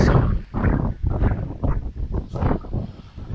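Gusty wind buffeting the microphone on a hill trail in heavy, uneven rumbling bursts that rise and fall throughout.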